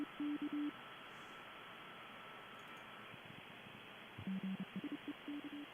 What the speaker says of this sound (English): This, if I click on this, you'll hear what we know as Morse code.